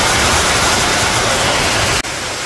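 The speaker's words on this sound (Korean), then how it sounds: "아직 더운 9월이라 그런지 가마소 폭포가 더욱 시원스럽게 느껴지고 있습니다." Gamaso waterfall on a forest trail in early September, a steady broadband roar of falling water that holds loud and constant with one brief dip near the end.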